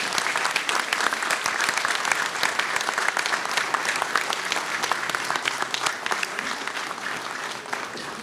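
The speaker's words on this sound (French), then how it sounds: "Vous pouvez l'applaudir très fort." Applause for a speaker at a mayor's New Year address in Garéoult: a large indoor crowd claps loudly and steadily throughout, with a few faint voices underneath.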